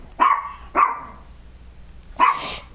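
A dog barks three times indoors, two close sharp barks followed by a pause and a third, loud and near with no talk over them.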